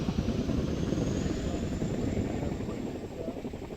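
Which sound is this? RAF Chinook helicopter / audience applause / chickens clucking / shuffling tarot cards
RAF Chinook helicopter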